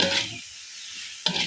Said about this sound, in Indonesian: Tetap rajin diaduk.